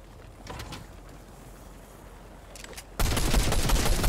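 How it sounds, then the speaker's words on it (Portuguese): Video game gunfire: faint, distant shots and background noise give way to an abrupt, loud, sustained burst of rapid shooting for the final second. "Tô atirando só pra atirar."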